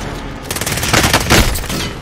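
Rapid automatic gunfire in Call of Duty Warzone Pacific on Rebirth Island, a loud burst of close shots rattling off for over a second after a brief quiet start.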